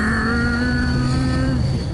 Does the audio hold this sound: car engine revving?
yes